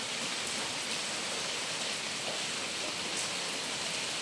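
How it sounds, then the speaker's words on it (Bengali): Rain falls steadily as a dense, even patter and hiss, close and fairly soft, with no break or change in strength and no voices. "বৃষ্টি উপভোগ করুন।"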